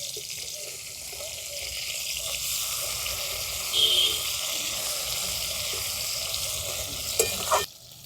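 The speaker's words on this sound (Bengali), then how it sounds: "তেলটা গরম হয়ে গেছে আর এরপর আমি যে মাছগুলোতে নুন হলুদ মাখিয়ে রেখেছি মাছগুলো দিয়ে দেবো" Salted, turmeric-coated khoira fish fry in hot oil with a steady, close hiss and soft bubbling crackle, ending with a brief clatter.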